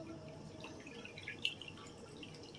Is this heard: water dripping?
yes